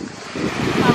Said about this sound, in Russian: А море волнуется сегодня.